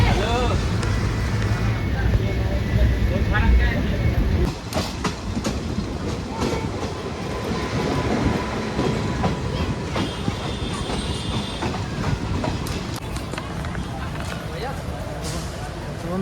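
A train runs on rails on the line toward Dhuliyan Ganga station, a steady close rumble with clickety-clack and rattling carriages throughout, loudest at the start and then continuing evenly.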